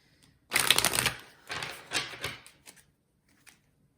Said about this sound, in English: let's clarify with some oracle cards